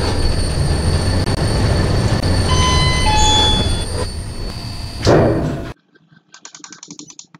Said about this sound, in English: That's the third gen Eclipse motor.